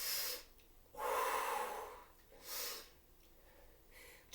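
A person breathing heavily during a total body conditioning workout, with several loud, rushing breaths in and out at an uneven pace, close to the microphone and with no talk.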